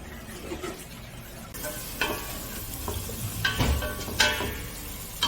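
Pounded ginger, garlic and onion frying in a pan, a soft sizzle that brightens after a moment, with a few scraping stirs and utensil clicks up close.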